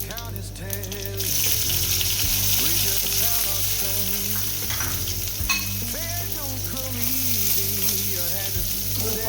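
Onions and fennel seeds frying in hot oil, a loud, dense sizzle that surges as they hit the pan and then holds steady, with stirring noises and background music throughout.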